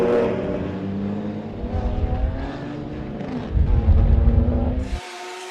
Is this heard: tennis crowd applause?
no